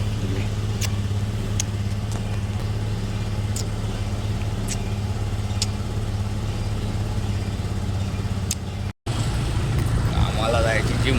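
A car engine idles with a steady, low, droning hum that holds close and even for about nine seconds, then cuts out briefly before the rumble returns.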